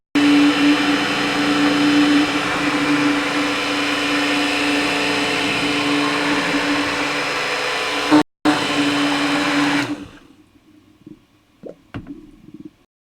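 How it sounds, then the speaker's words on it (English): A stick blender whirs loudly and steadily through hot process soap for several seconds, its motor drone broken by one brief cutout before it stops, leaving faint wet squelches and clicks. "just stick the stick blender in there and let it run for more than 5 seconds at a time"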